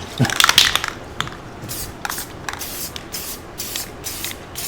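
A TV tray is spray painted black in a series of short aerosol bursts: a loud hissing spray first, then several quicker, lighter sprays spaced out, with faint rattling in between.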